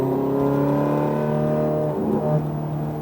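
A Ferrari F430 F1 track car's engine holds a loud, steady high-pitched drone, climbing and then dipping slightly near the end, heard from inside the car on a track with no talk.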